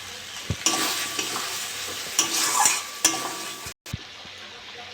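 Close, loud stirring in a frying pan as turmeric and chilli powder are toasted for a potato and cabbage chorchori with fish oil, with steady sizzling and brisk scraping strokes, plus a few sharp knocks against the pan.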